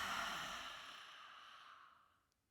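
A single long open-mouthed exhale of yoga lion's breath, tongue out, a breathy rushing sigh that starts strong and fades out over about two seconds, close and alone.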